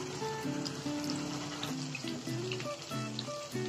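Water pours into a mixing jar of ground masala while Odia chicken curry is being made. The trickle and splash are close and continuous, with faint clinking and no voices.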